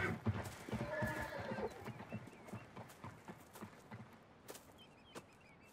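Horses walking on a farm: a faint, irregular clip-clop of hooves with scattered footfalls, a brief whinny early on, and soft shuffling that trails off quietly.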